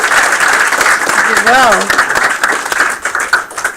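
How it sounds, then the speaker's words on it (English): Applause from a game studio team at a milestone build review, a continuous patter of clapping from a room of people, loud and close, with voices talking over it. "Another round of applause for everybody."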